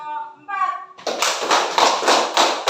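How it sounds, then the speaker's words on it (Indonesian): A classroom of schoolchildren clapping for a presenting group, brisk rhythmic hand claps in regular bursts that start abruptly after a voice, close and fairly loud. "kita beri tepuk tangan untuk kelompok"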